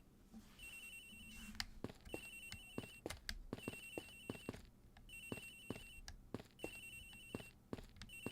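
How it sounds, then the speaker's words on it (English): A phone ringing in the detective game Ace Attorney Investigations, heard as repeated electronic trill bursts in a steady pattern at moderate level, mixed with sharp clicks and game effects and no speech. "Agent Hicks' phone, it's ringing from somewhere, sir."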